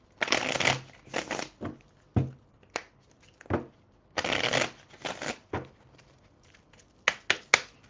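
Oracle cards being shuffled by hand in bursts of crisp riffling and flicking, several clusters of quick card slaps separated by short pauses, close and fairly loud with no talking.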